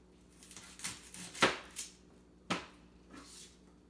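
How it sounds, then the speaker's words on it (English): A kitchen knife cuts the top end off a yellow onion on a cutting board, giving a few sharp, close chops with quiet gaps between them and no voices. "So the yellow onion, you want to cut off this end here, not the root end, but the top end off."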